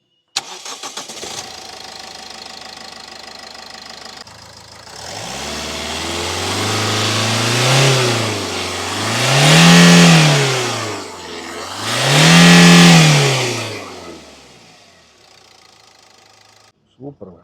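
An old Toyota Etios diesel car engine with over 334,000 km idles, then revs up three times in rising and falling swells before settling back to a low idle, heard close.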